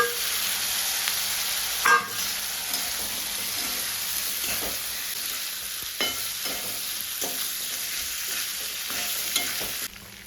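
Mutton tossed into hot spiced masala with garlic, coconut paste and red chilli powder for a Satara-style mutton curry sizzles and fries steadily, with stirring scrapes and a sharp burst of spattering near the start.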